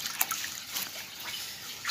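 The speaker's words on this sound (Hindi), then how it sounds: "गर्म पानी डालना पहले मैंने" Hot water being poured, heard as a faint, steady trickle with a few soft drips, quiet and close throughout.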